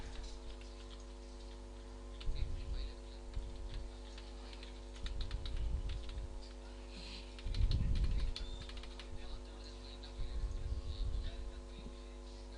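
Login email and password being typed on a computer keyboard, bursts of quick clicking keystrokes separated by pauses, over a steady electrical hum.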